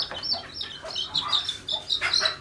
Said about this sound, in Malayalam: തള്ളക്കോഴിയും കുട്ടികളാണ് കേട്ടോ.